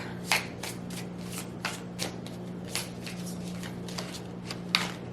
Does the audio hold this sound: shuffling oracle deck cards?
yes